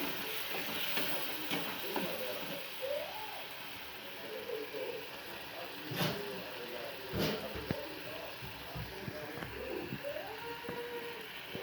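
Spice masala frying in a pan, a soft continuous sizzle with occasional stirring scrapes and clinks, faint chirping in the background and no speech.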